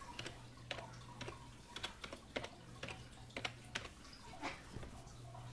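Keys clack in uneven, quick bursts on a computer keyboard as an IP address gets entered, close and fairly quiet over a steady low hum.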